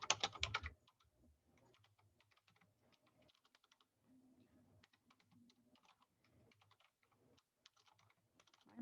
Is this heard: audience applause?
no